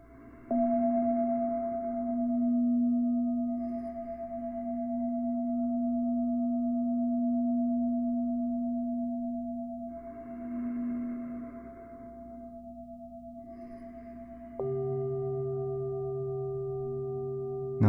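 Tibetan singing bowls ring in a sound bath meditation, steady pure sustained tones humming alone and softly, with a new bowl struck near the end adding fresh overlapping tones.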